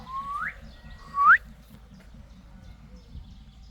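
A parrot gives two short rising whistles, bird-like and close, the second louder, followed by quiet background murmur at a tropical bird park.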